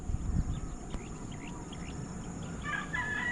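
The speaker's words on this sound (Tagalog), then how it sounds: "ang huni ng mga ibon" Birds call in open countryside farmland near a mountain, with fowl-like clucks and short chirps scattered over faint outdoor background, some brighter calls toward the end.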